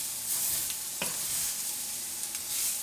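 Sausage sizzling in a pan as it browns, a steady close hiss of frying with a sharp scrape of stirring near the middle and a few fainter stirs later.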